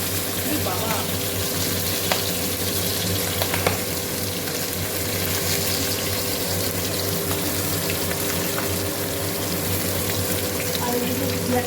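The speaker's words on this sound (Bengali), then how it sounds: "মাছটা যে হয়ে গেছে, কত ফুটছে দেখো" Fish curry bubbling in a pan on a gas stove in a home kitchen, a steady close, dense simmering hiss with busy bubbling that runs unbroken throughout, with no talk over it.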